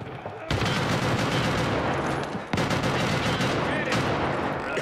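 Sustained, loud automatic gunfire in an Escape From Tarkov Arena match, with dense bursts rattling almost without pause, a short break midway and then more firing.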